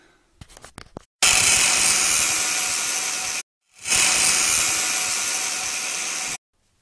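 Steel pipe being cut for magnet shielding: a few sharp knocks, then two long, loud, steady bursts of harsh power-tool grinding, each lasting a couple of seconds and separated by a brief pause.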